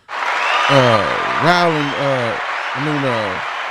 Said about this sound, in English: Let's give a round of applause for the G-Spot and Rowland